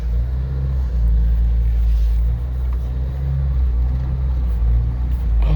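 A 1956 Ford Anglia 100E with a three-speed gearbox backs up in reverse, its engine a steady low rumble heard from inside the car, fairly loud and even throughout with no speech.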